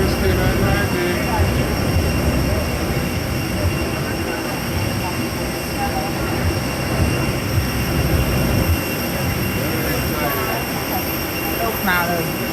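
Inside the cabin of an airplane landing in the Cayman Islands, a steady, loud roar of engine and rolling noise runs throughout, with faint voices underneath.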